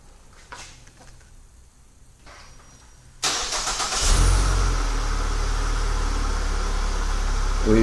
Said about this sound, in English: We've started the vehicle silently